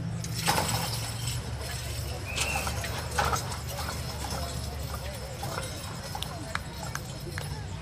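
Hooves clip-clop on the ground at a county 4H fair horse and pony pull, scattered hoof strikes and clatter heard at moderate distance beneath an announcer talking over a loudspeaker.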